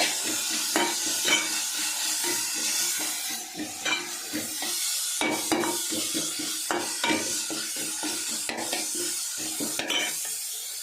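Steady sizzling of green chillies sautéing in a hot pan for egg fried rice, with repeated scraping and stirring strokes of a utensil against metal, close by, with no talking.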